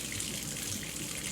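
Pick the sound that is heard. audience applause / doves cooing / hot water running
hot water running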